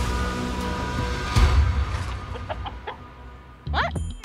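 Chicken clucking in a pen: several short, clear clucks rise over a steady low rumble. A louder burst of calls comes near the end.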